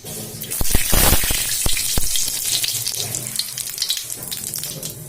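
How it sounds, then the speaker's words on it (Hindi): Spices crackle and sizzle as they hit 100 grams of hot oil in a heated kadhai, with sharp popping bursts early on that settle into a steady, close frying hiss. "एमे हम 100 ग्राम तेल डालने छी और एमे हम थोड़ा सा फोरन डालबे।"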